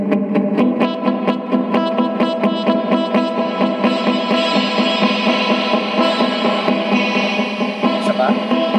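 Electric guitar notes ringing through heavy reverb, each pluck washing into a long shimmering tail that blends into a continuous ambient swell.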